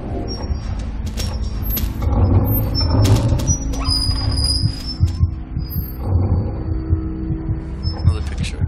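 Heartbeat sound effect in the horror video game Among the Sleep, a low steady throbbing pulse repeating through the clip beneath game ambience, hum and scattered bright clicks and tones.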